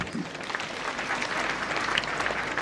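Audience applause at a university graduation ceremony, a soft, steady patter of many hands clapping at a moderate distance, fairly faint, with no speech over it.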